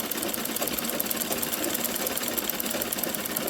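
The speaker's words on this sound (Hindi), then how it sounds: "और यहाँ पे और इस पे हमें साइड की सिलाई कंप्लीट कर देनी है।" A sewing machine stitches the side seams of a frock with a continuous, fast, even mechanical whirr that runs unbroken and close.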